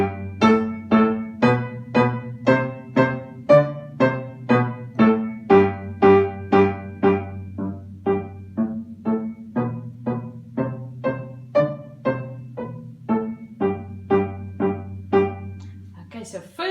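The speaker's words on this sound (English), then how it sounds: "the staccato warm up, you're going to play forte the first time and then piano" A piano plays a short-note staccato warm-up in G position, starting on the second G below middle C, first loud then soft, with evenly spaced detached notes in a steady rhythm.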